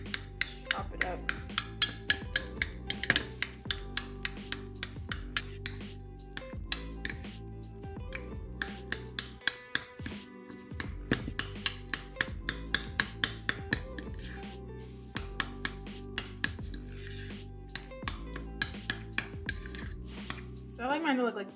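Minced onion being chopped on a board in a home kitchen, with a rapid run of knife taps and clinks of dishes and utensils throughout, some pauses, and faint speech in the background.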